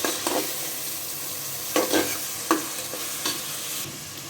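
Onion and garlic, with salt added, sautéing in a pan for aloe vera greens cooked with prawns, a soft sizzle under a few distinct spatula scrapes and taps, close by and without talk.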